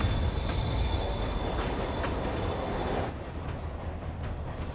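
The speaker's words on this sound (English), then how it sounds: "His escape plan is to use the train. Can't let him get away. Train platform is open." A train in Marvel's Spider-Man video game rumbles along with a steady heavy roar and faint squealing wheels, loud and continuous, easing slightly toward the end.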